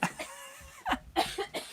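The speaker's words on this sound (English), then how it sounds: "I'm gonna cough." A few sharp coughs come from a person nearby, in short bursts spaced across a brief stretch, fairly close and moderately loud with no talk over them.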